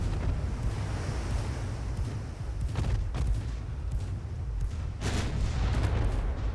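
Naval battle in the Ultimate Admiral: Dreadnoughts warship game, with distant gun salvos booming over a steady roar of wind and surf, a few heavier blasts standing out near the middle and end.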